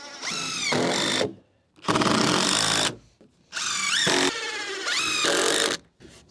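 A power driver sends screws through a plate into wooden studs while framing a gable end wall, in four loud, close bursts of whining motor that rise and fall, separated by short pauses.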